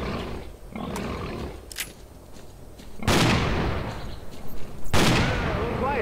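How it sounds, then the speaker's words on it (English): Pigs in the video game S.T.A.L.K.E.R. Clear Sky, loud harsh squealing grunts bursting in twice amid gunfire-like blasts, close and aggressive. "That's a lot of pigs."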